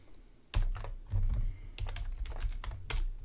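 Close computer keyboard typing, loud thumping keystrokes in quick clusters, heavier presses with lighter clicks between, alone without speech.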